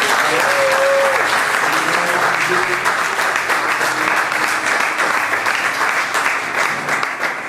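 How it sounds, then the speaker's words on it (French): A church congregation applauds loudly and steadily, mixed with cheering voices and a brief high whistle or cry, the clapping fading only slightly toward the end. "Est-ce qu'on peut acclamer le Seigneur"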